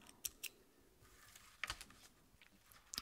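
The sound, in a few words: scissors trimming macramé cord flush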